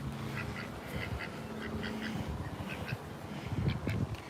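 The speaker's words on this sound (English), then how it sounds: "Those are cute ducks." Several cute ducks quack repeatedly close by during an outdoor walk, the bursts scattered across the whole stretch over steady background noise.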